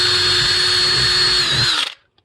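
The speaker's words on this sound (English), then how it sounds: "Drill your hole." A power drill boring a hole while mounting a speaker in a DIY ice-fishing power box, one loud, steady, close whine lasting nearly two seconds before it winds down and stops.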